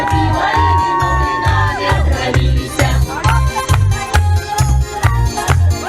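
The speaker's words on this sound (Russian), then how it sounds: "Еще раз бурные аплодисменты нашим победителям" A crowd at an outdoor Maslenitsa festival in Yakutsk cheers and claps for the winners of a Russian folk dance contest, with shouts over a loud, steady thumping music beat and bright musical tones.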